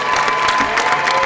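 An audience at an elevator pitch competition final gives a contestant a round of applause, a dense, loud wash of many hands clapping with a few faint cheers.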